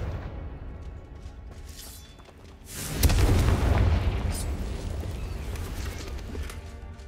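A Confringo blasting spell from Hogwarts Legacy goes off in a sudden deep boom. A rumbling blast follows and hangs on as a long, loud roar that slowly fades.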